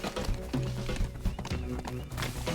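Horse galloping in the video game Teardown, a quick run of hoof clip-clops in irregular rhythm, moderately loud and close, with a brief whinny-like tone and a voice talking over it.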